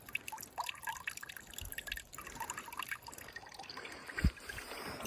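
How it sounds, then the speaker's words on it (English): Running water on a hiking trail, a faint, uneven trickle and dribble with small splashes heard from close by, with no talk. "Look at some really, really low quality footage of water running."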